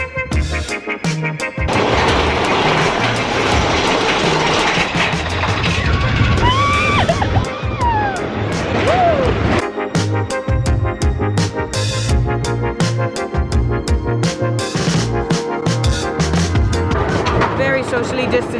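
A Big Thunder Mountain roller coaster train at Magic Kingdom rattles and roars along its track, loud and close, with squealing wheels, clattering bursts and riders yelling and chatting throughout.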